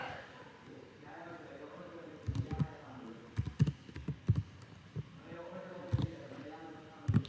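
Keys tapped on a computer keyboard while entering a heading in a document, heard as scattered bursts and short runs of clicks against a low background murmur.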